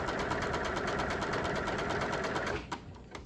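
Close, loud sewing machine stitching ribbing binding onto a knit bodice neckline in a fast, even run that stops after about two and a half seconds, leaving a few faint clicks and handling sounds.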